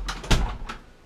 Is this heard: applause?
no